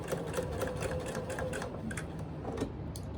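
A sewing machine stitching quilt block pieces, running steadily and close with a fast, even mechanical chatter throughout and no pauses.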